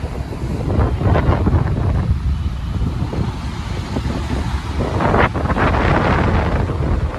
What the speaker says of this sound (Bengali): হাওয়াও বেশ ভালো চলছে।